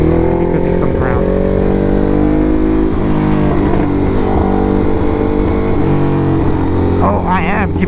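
A Ducati motorcycle rides through New York traffic, its engine droning loud and steady throughout with shifting revs, joined by a few brief horn-like chirps near the end.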